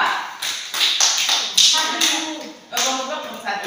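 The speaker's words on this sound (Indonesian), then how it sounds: "Tepuk tangan untuk kelompok 2" Classroom applause for a student group, with bursts of clapping and tapping from many hands that rise and fall in uneven waves, mixed with some voices.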